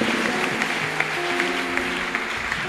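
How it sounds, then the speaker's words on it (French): A church congregation applauds during a worship service, a steady, dense wash of clapping from many hands that holds even throughout, with faint tonal sounds in the background. "Applaudissez d'abord pour vous-même."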